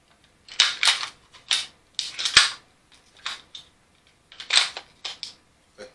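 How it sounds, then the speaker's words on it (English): An AR Stoner upper receiver with a 16-inch barrel is fitted onto a 5.56 rifle: a series of sharp, close metallic clicks and snaps in irregular bursts, with no talking. "attach that upper receiver to the gun"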